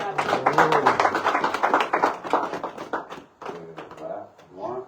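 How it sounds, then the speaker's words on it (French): An audience claps together in a dense burst, the sound loud and continuous before thinning into scattered claps, with a voice speaking over part of it. "Donc applaudissez-vous vous-même"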